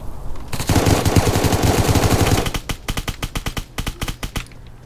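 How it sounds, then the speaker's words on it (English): Automatic gunfire in the Roblox game Apocalypse Rising 2: a loud, rapid, sustained burst, then a quicker string of separate shots that tapers off, close and unaccompanied. "he's shooting elsewhere"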